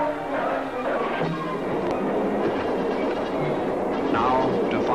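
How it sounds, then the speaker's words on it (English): Steam locomotive from The General (1926) running on rails during a chase, a steady, loud rolling rumble with faint rhythmic clatter throughout, mixed with other soundtrack sound. "The locomotive chase starts all over again in the opposite direction."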